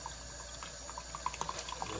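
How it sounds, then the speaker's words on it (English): Hot water trickling and dripping down a refrigerator's drain port into a cup, faint and close, with small irregular drips and splashes building in the second half. "So I just pour some hot water down in there, and you'll be able to see the water come down into this cup."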